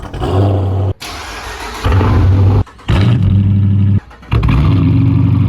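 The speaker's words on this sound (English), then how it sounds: "So you may know that this car is actually straight piped." A straight-piped Dodge Challenger R/T engine fires up and revs in several loud, raw bursts, each held briefly before dropping back, with abrupt cuts between them.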